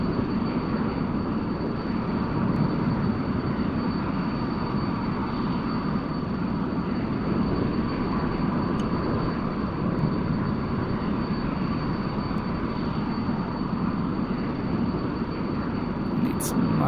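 The jet engine of the F-100 Super Sabre in the DCS flight simulator gives a loud, steady roar and broad rumble that holds unbroken throughout, with a few faint clicks over it.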